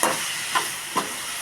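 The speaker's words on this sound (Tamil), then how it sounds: "இந்த முள்ளங்கியும் இந்த 2 அவரைக்காவும் போட்டு நல்லா எண்ணெயில் நல்லா வதக்கிக்கணும்." Radish and broad beans sauté in hot oil with turmeric, giving a steady, close sizzling hiss with a few brief crackling pops.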